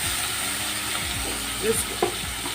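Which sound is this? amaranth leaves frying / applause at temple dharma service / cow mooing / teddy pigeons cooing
amaranth leaves frying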